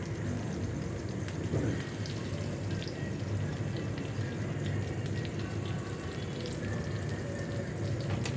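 Stuffed tomatoes frying in a pan, turned again and again, hiss and crackle in a dense, steady sizzle with no pauses, close and moderately loud.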